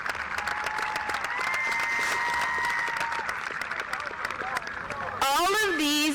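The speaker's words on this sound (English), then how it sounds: "Please give a round of applause for the pharmacy technicians." Crowd applause and cheering at a high school graduation ceremony honoring graduating pharmacy technicians, steady clapping with crowd noise throughout, then a voice begins speaking near the end.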